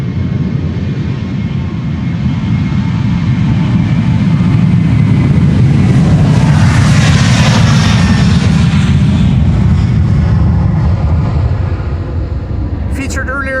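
A jet airliner takes off from Polderbaan runway 36L at Amsterdam Schiphol on a sunny morning, a loud sustained roar that swells to a rising whine at its peak and then slowly eases off.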